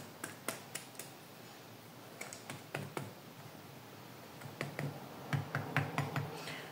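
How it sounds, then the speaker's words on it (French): A fork pricks the pastry base of a dark chocolate tart, then its sides: sharp, close clicks come in irregular bursts with short pauses, alone with no talk. "vous prenez une fourchette et vous venez piquer votre fond"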